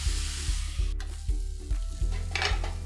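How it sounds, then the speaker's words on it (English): Vegetables are tossed in a sizzling pan, a steady fry hiss broken by regular thumps and scrapes of stirring, about two tosses per second, close and with no voices. "I've been tossing the vegetables intermittently in between"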